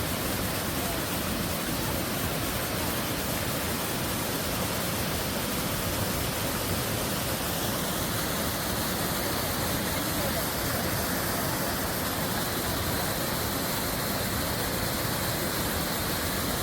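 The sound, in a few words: waterfall at Nerstrand Big Woods State Park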